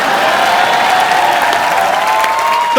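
A studio audience at a comedy talk show claps loudly and steadily for the whole stretch, a dense, even roar of applause with some cheering mixed in.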